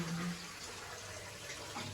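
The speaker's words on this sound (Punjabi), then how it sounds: "ਪਾਣੀ ਪਾ ਲਵੇ" Water pours steadily into a cooking pot while dal is being prepared in a home kitchen; a soft, continuous rushing hiss runs throughout, fairly faint and unbroken.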